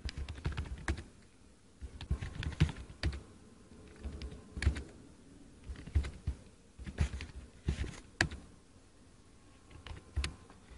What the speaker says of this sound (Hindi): तो मैं जल्दी से 5 नाम और उनके रोल नंबर्स को एंटर कर देता हूं।